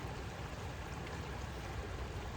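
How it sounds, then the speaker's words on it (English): A stream flows with a steady, even rushing and gurgling of water, continuous and fairly close, with no other sounds standing out. "the spot, the water, the sound of the water"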